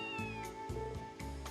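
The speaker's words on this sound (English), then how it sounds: "I've seen this black cat somewhere before." Black cat in Trails to Azure meowing three times in quick succession, short clear mews over a quiet background music bed, fairly soft and close.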